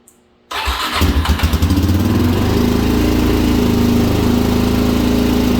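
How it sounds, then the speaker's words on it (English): After a brief quiet moment, a Suzuki DRZ400SM motorcycle engine catches and roars to life, then settles into a loud, steady, rumbling idle close by. "I'm going to start the bike up real quick"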